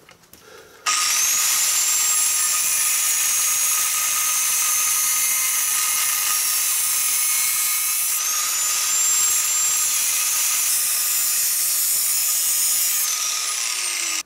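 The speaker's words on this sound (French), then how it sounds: "Tu viens découper à la disqueuse ton collecteur d'échappement." An angle grinder cuts through a motorcycle exhaust header, a loud sustained high-pitched whine that starts abruptly after a brief quiet moment and holds steady, with a slight shift in pitch partway through.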